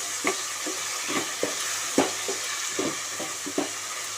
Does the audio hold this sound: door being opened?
no